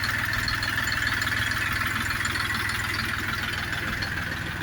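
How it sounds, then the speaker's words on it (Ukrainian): An Orion RF 244 RE mini tractor idles loudly at close range while it is being loaded for delivery, its engine chugging evenly with no talk over it. "Отакий тракторець відвантажується до свого власника."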